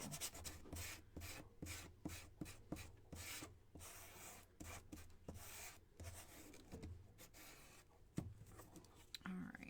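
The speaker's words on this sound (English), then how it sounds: "So that one is sanded." A wooden piece from a swinging bunny DIY kit is hand-sanded in quick, faint back-and-forth strokes, a soft rhythmic scratching that runs steadily throughout.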